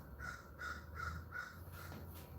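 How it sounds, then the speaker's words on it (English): A real crow caws in a backyard, about five harsh, evenly spaced calls close by, with no talk over them. "That's an actual real crow, by the way."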